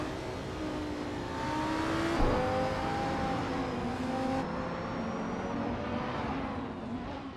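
McLaren Senna race cars in a racing video game, engines droning loudly and continuously with rising and falling whines as they jostle in a pack, one car's pitch climbing through a gear near the middle.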